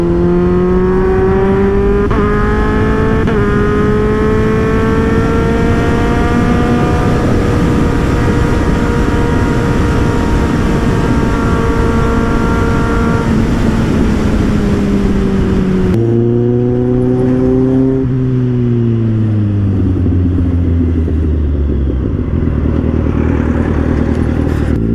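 A loud modified Kawasaki Z800 motorcycle with an aftermarket exhaust holds a long, close, rasping rev that climbs and sustains before dropping sharply and settling back down.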